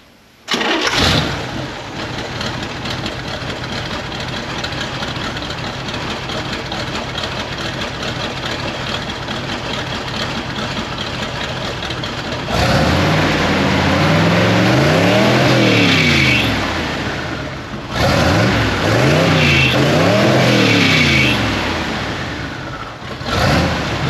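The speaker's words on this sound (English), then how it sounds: "So I guess we'll fire it up" Twin-turbo engine in a 1966 Chevrolet C10 dually truck cranks and fires, then idles loud and steady before two sharp rising revs near the end, close by with no talk.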